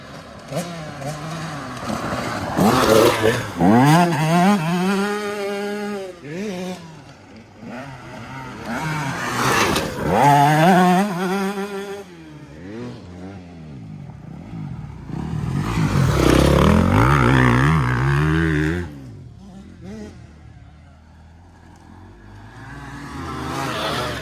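Motorcycles on a Spanish track at a summer riding camp sweep through a bend one after another, each engine rising loud and close with shifting revs before fading, leaving brief quieter gaps between passes.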